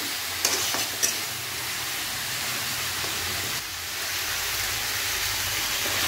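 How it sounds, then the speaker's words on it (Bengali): Onion and ginger frying in a pan make a loud, continuous sizzle with a couple of brief clatters near the start and no voices. "আর মশলাটা একটু ভাজা হয়ে যাবে"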